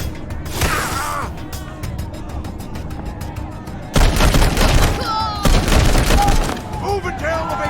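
Video game gunfire in Wasteland 3: dense bursts of loud, close shots and crashing impacts in two main volleys, with voices talking over the battle.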